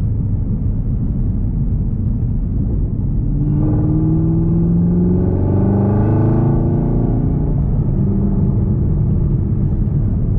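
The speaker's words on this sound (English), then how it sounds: "You go to 6th gear and it just bogs it, and the motor has problems." A Z car's engine bogs at low revs in sixth gear, a steady deep rumble with a strained, rising harmonic drone that swells mid-drive and then eases back to the constant cabin hum.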